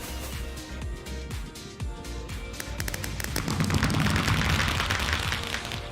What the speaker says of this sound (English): We're gonna make some creeper head fireworks as well.